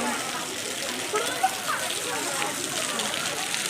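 Flood water splashing and rushing steadily as students wade through a flooded college campus in Pune, a continuous wash of water noise with voices talking over it.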